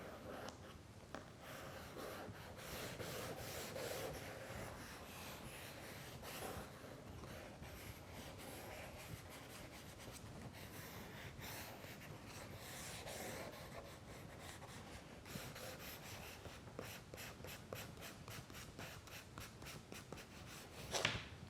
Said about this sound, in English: Just try to move both hands as quick as possible to draw everything you can see